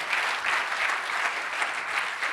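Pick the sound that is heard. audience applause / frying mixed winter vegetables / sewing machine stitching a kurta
audience applause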